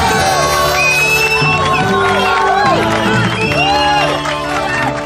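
A live studio audience at a radio-style show cheers and whoops loudly, a dense close roar of many shouting voices that holds steady before easing slightly at the end.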